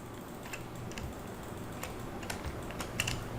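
Steady computer keyboard typing with rapid clustered key clicks and a firmer Enter keypress, close and fairly quiet, with no voice present.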